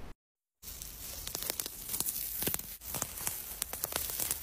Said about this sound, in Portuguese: o gato tá descascando uma mexerica com a pinça